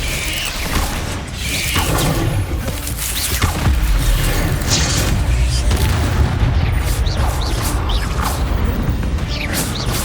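Spell casting in Hogwarts Legacy combat, with dense booming blasts, whooshes and mechanical clatter that layer continuously and loudly over a low rumble throughout.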